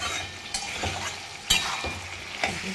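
Potatoes and pointed gourd sautéed in a pan, with a steady sizzle and a few sharp scraping stirs of a spatula spaced about a second apart, close and moderately loud, no talking.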